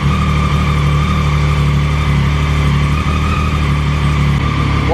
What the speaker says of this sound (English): Letting the bike warm up.